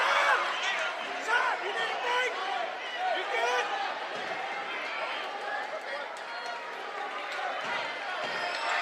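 Crowd in a high school basketball gym during a free throw: a steady, dense murmur of many voices fills the space continuously, with no sharp cheer standing out.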